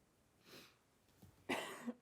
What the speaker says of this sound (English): Apologies for the coughing fit up here.